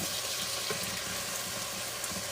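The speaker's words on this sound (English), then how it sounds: "so as you see, the mushrooms sizzling here" Mushrooms sizzle steadily as they sauté in a pan for an okra stew, a continuous close hiss of frying with faint stirring and no talking.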